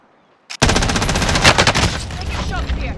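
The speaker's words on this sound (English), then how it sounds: "Taking fire!" Rapid automatic gunfire in the Call of Duty: Modern Warfare video game bursts in suddenly and loudly, continuing as a dense, rattling stream of shots for several seconds.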